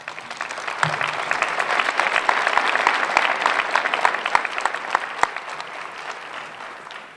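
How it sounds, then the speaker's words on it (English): A graduation audience at an EMS ceremony in Cleveland claps steadily for the new graduates, a dense room-filling applause with a few sharp individual claps standing out, holding level throughout and tapering slightly at the end. "give them a round of applause"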